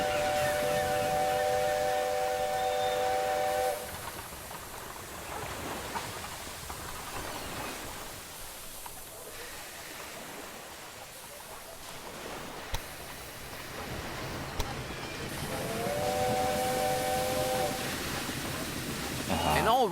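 A train runs in Railway Empire 2, a continuous rumbling rush with tonal horn-like whistles at the start and end, loud at first and dropping to a softer roll in the middle.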